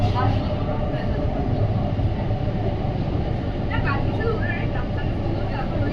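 Kolkata underwater metro train running beneath the Hooghly River, a loud, steady, close rumble of rolling carriages under a spoken announcement.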